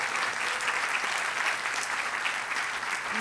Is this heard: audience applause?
yes